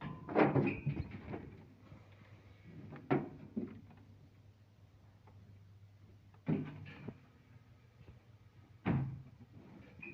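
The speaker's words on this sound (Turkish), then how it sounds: "Kapat kapıyı." A door closes in an animal barn with a few hollow wooden thumps and knocks, moderately close, separated by quiet stretches of room noise.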